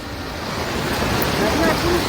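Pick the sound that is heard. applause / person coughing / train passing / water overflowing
water overflowing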